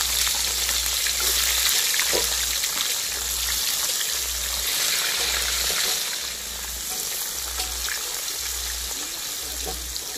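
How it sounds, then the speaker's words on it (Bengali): Sajne drumsticks frying in hot oil in a kadai, a steady loud sizzle with crackling bursts throughout, no voices. "সজনে যা থাকলো এবার ভেজে নেব।"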